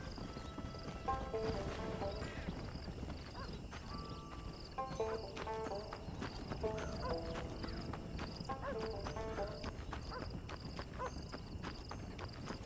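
Horse hooves clip-clopping in steady rhythm in Red Dead Redemption, a whinny among them, at moderate distance under a constant game ambience, with someone talking at times.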